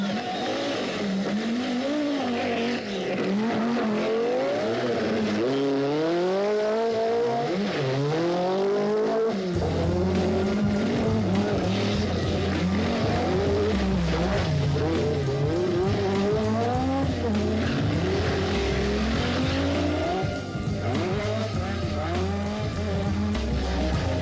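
Peugeot 205 Turbo 16 rally cars race on the Acropolis Rally, engines loud and close, revving up and down with rising and falling pitch, tyres squealing as they power through the stage.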